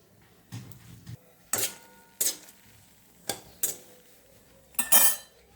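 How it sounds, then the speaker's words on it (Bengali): Dried red chillies and bay leaves stirred in a metal pan, giving a handful of sharp, irregularly spaced clinks and scrapes of a utensil against the pan, close and fairly quiet, with no voices. "সবার প্রথমে শুকনো লঙ্কা, তার সাথে তেজপাতা, এই দুটোকে হালকা একটু নাড়িয়ে নিয়ে"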